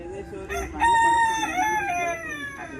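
A rooster crows inside a small netted backyard chicken coop, one drawn-out, clear cock-a-doodle-doo close by, with faint clucking and farmyard noise behind.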